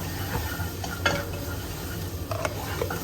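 Tomato paste being stirred in a pan, with a spoon scraping and clinking against the metal at intervals over a low steady sizzle; no one speaks.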